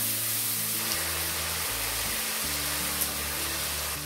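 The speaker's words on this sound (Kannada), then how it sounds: "ಇವನ್ನೆಲ್ಲ ಚೆನ್ನಾಗಿ ಎಣ್ಣೆಯಲ್ಲಿ ಹುರ್ಕೋಬೇಕು" Turmeric powder and jaggery fry in oil for mango chitranna rice, a continuous loud hiss of sizzling with a low steady hum running beneath it.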